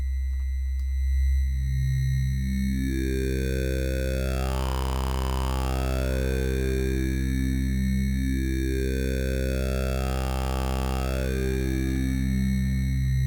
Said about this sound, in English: everything that gets below that frequency gets reflected above, and this is what we call aliasing